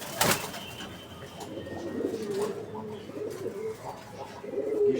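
Pigeons kept in a loft with young squabs coo softly and intermittently in low, murmuring phrases, with a brief wing-flap or rustle near the start and faint room noise throughout.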